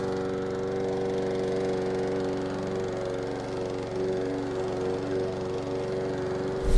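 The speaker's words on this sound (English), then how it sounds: "My neighbor Hank Hill decided he was gonna mow his lawn right as we decided to set this up." A neighbor's lawn mower runs steadily in a nearby yard, a continuous droning engine hum held at an even level throughout, with no talking.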